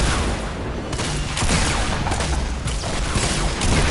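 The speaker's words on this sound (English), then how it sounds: "shoot rockets at him" Rockets fired in a Fortnite match make a loud, continuous barrage of overlapping blasts and booming explosions that fill the whole stretch without a pause.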